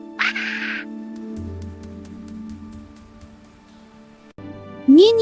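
A single short goose honk sounds near and clear, then soft background music continues, with a brief rising tone at the very end.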